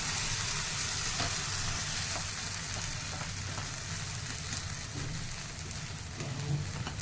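Capsicum and a spice mix frying in a pan with paneer, a dense, constant hissing sizzle with light stirring ticks throughout. No one speaks over it.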